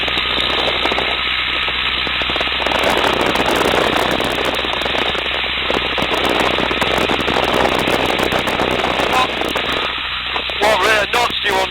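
Tiger Moth biplane engine throttled up in flight, a steady loud drone with broadband wind roar filling the cockpit and intercom voices speaking over it.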